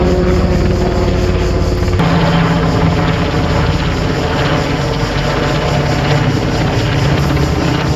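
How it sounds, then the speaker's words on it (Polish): A helicopter flying overhead at a robotics competition, a loud, constant rotor and engine drone filling the whole stretch with no voices. "Jeszcze lata mi tu helikopter."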